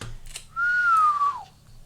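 A voice imitates the whistle of an incoming RPG round: a single sustained whistled tone, steady then gliding downward as it fades, close and clear over a quiet background.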